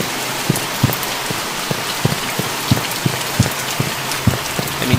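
Rain falls at night in the horror game The Mortuary Assistant, a steady close hiss of rain on surfaces with scattered louder drops tapping in an irregular rhythm, no voices.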